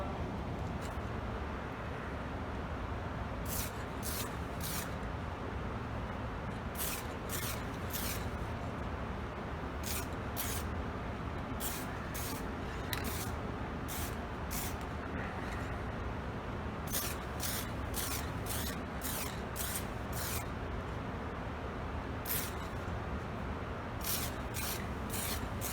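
UV clear coat protectant sprayed onto a refinished car headlight lens: repeated short spray bursts in irregular groups over a steady broad background rush, fairly close, with no talk.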